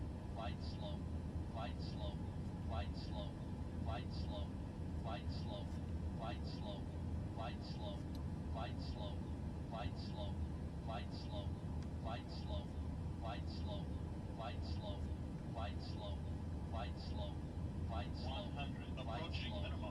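An airplane engine drones steadily through a landing in a flight simulator game, a constant low hum overlaid by a rapid repeating high-pitched chirping beep, likely a cockpit warning tone, throughout.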